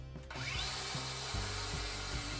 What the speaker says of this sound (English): I got my little cutting wheel. I'm just going to grind the tips off of them.